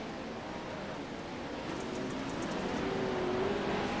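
Race cars in the Crandon short-course racing video game drone steadily at a distance, a continuous engine hum that swells slightly toward the end with no talk over it.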